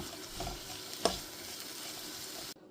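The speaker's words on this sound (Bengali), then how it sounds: "এবার আমি ভালো মতো নেড়ে চেড়ে মিক্স করে নেব" Green chili and chopped onion are stirred and mixed in a frying pan while cooking bitter gourd. A soft, steady sizzle is heard with one sharp knock of the spoon, and there is no talk.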